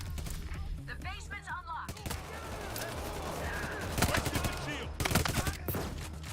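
Rapid bursts of SMG fire in the heist game Payday 3, with clustered cracks and short volleys near the middle and end, heard under someone talking.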